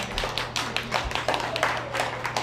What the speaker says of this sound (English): let's give these kiddos a round of applause for coming back here